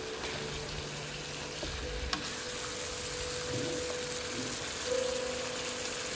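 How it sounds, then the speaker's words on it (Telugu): Mutton pieces being stirred through a green gravy in a pan, giving a steady low sizzle and bubbling with soft scraping and stirring movements, a couple of brief clinks, no talking. "ఇలాగా మటన్ పీసెస్కి గ్రీన్ గ్రేవీ అంతా బాగా పట్టేటట్టు మనం కలుపుకుందాం"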